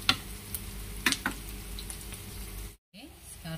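Shallots for rendang fry in a pan with a steady, close sizzle and a few sharp stirring clicks, while a voice talks over the cooking.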